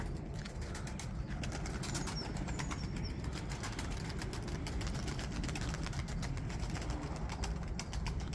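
Tumbler pigeons with rain-soaked feathers, their wings flapping in repeated bursts with soft cooing over a constant rumbling background.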